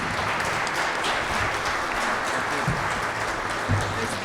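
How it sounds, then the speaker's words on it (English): An audience at a quality institute symposium applauds the panelists and their moderator, a steady, dense wash of clapping that holds evenly throughout with no talk over it. "Let's give them a round of applause."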